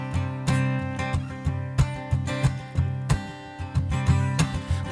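Guitars open a song, played live at a music festival with a strummed, rhythmic pattern of accented chords and a low bass line. The sound is steady and full, and no voices are heard.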